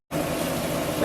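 Orange juice pouring into a pan for a chicken orange dish, a steady liquid splash that starts abruptly and continues evenly at close range.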